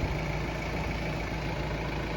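A car engine idles close by in a garden, a steady low rumble with constant vibration throughout and no talking.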